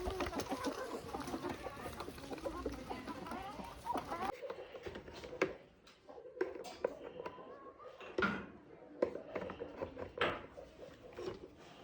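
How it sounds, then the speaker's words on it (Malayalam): Several chickens cluck around a yard, busy and close for the first few seconds, then thinning into scattered calls and rustling with occasional faint voices. "തോനെ കോഴികളുണ്ട് ഇവിടെ"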